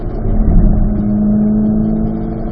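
Car accelerating in fourth gear on a race track: a loud, steady engine drone with a rising tone, close and sustained, heard alone without talking.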